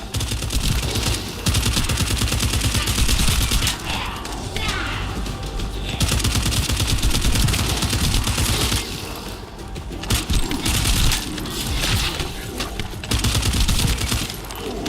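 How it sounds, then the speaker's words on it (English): Heavy gunfire in the video game The First Descendant, loud sustained bursts of rapid shots with thumps, running almost without pause across the whole stretch. "That stopped the gunfire."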